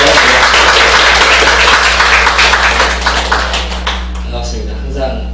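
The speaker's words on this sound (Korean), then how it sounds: "너무 반가워서 우리 박수 한번 드릴까요?" A church congregation claps for visiting teachers; a burst of applause that tapers off over a few seconds, heard beneath a loud low hum and some talking.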